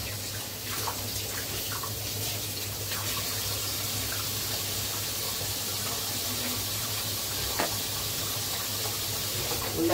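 Crabs being washed under running water, a continuous close splash and pour from a tap with a low steady hum beneath it.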